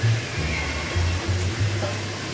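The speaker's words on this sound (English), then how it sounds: "what I'm going to do is I'm going to give them a good rinse" Cooked nopales cactus rinsed under a kitchen tap: a steady hiss of running water with a low rushing tone throughout, close and constant.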